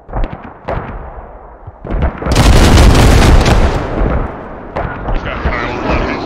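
A heavy airstrike explosion in a tactical shooter game hits about two seconds in, a loud sustained broadband roar lasting a few seconds and trailing off, with smaller booms and voice chat around it.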